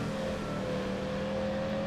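A Ford race car in a NASCAR-style racing video game accelerates down a straightaway at around 160 mph, its engine holding a steady, sustained drone with a whining tone throughout, loud and close, with no talk over it.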